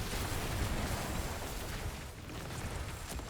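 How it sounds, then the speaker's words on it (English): Explosion in Diablo 4 during Season 3 Sorcerer play with a Firewall Meteor build, a loud sustained rumbling blast that fills the whole moment with broadband roar, tailing off slightly toward the end. "And there was an explosion. I would have died."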